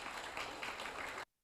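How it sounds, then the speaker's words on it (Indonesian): An audience of young people at a political discussion in Bandung applauds, a dense and steady burst of clapping that cuts off sharply into silence near the end. "Tepuk tangan untuk semuanya."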